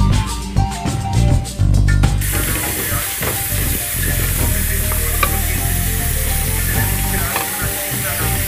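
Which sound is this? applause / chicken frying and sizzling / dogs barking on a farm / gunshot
chicken frying and sizzling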